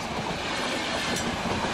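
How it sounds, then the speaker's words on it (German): Intercity train from Braunschweig rushing past on the tracks near a rail switch, a loud, steady, close roar of wheels and carriages filling the whole moment. "Der IC aus Braunschweig ist heute Morgen schon der 8. Zug, der die Schienenschweißer von ihrem Arbeitsplatz vertreibt."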